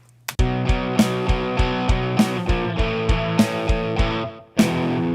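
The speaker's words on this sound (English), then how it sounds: "Kick and snare are usually the meat and potatoes of any drum part," Programmed kick and snare drum part for a blues rock song, kick and snare alternating in a steady beat with the snare on beats two and four over a sustained distorted tone, loud and up front with a pause before a final hit.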